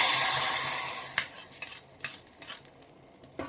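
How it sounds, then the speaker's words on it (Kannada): Chana dal tempering in ghee crackles and sizzles close by, a steady hiss fading into scattered pops and spoon clinks against the pan. "ಒಂದು ಅರ್ಧ ಸ್ಪೂನ್ ತುಪ್ಪದಲ್ಲಿ ಒಂದು ಅರ್ಧ ಟೀ ಸ್ಪೂನಷ್ಟು ಕಡಲೆಬೇಳೆ ಒಗ್ಗರಣೆ ಹಾಕ್ಕೊಂಡಿದ್ದೀನಿ"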